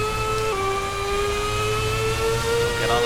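A race car engine in the Assetto Corsa video game at the Catalunya circuit, droning at steady, moderately high revs with a sustained tonal whine that shifts pitch slightly a couple of times.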